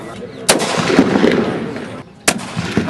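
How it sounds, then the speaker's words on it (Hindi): Gunshots fired into the air by a woman holding a gun, two sharp loud cracks over rumbling crowd noise and outdoor clamor. "बंदूक थामे हवाई फायरिंग कर रही है"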